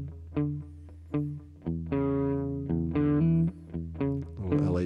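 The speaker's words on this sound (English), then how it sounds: "That's the sound of the guitar right off the amp with a ribbon mic." Electric guitar recorded straight off the amp with a ribbon mic, playing a choppy riff of short plucked notes and sustained tones with a warm, slightly overdriven tone, clear and close with no voices.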